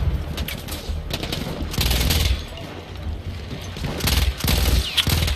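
Battlefield 1 combat crackles with bursts of gunfire and heavy impacts, several loud clusters of shots over a busy rumbling battle backdrop.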